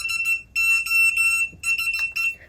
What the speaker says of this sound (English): So it beeps and flashes red lights so that you can draw attention to yourself